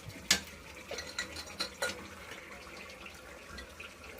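Chicken stirred in a hot pan for a red curry, with a soft sizzle and a few sharp clicks of a utensil scraping the pan, quiet and close.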